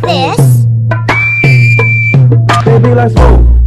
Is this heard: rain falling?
no